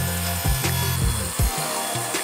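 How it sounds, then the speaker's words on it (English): A power saw whines as it rips wooden boards lengthwise, with the pitch dipping sharply several times as the blade bites, close and loud. "Let's rip our cross members"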